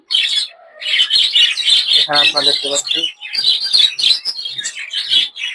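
Pet budgerigars chirp in bitter winter cold, a dense, rapid, high twittering chatter close by and nearly continuous, while someone speaks briefly over it.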